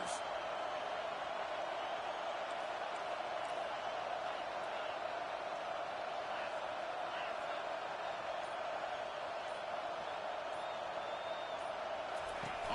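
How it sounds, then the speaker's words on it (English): A packed stadium crowd in the College Football 25 video game gives off a constant, even roar at low volume, a steady wash of noise with no distinct peaks early in the game. "Listen to the crowd energy here in the early going."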